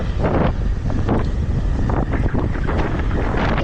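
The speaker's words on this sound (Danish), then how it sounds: "Men i dag er det ekstra meget vind." Heavy, constant wind buffets the microphone while riding an Ausom Gosoul 2 electric scooter at around 40 km/h on a gusty day, a loud, close, unbroken roar with no talk.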